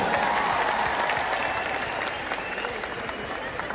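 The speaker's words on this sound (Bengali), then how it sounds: "এটা দেবের জন্য জোরে হাততালি চাইবো সবার কাছ থেকে।" Loud, sustained applause from a large crowd at a celebration event honouring actor Dev, steady dense clapping throughout with some cheering mixed in.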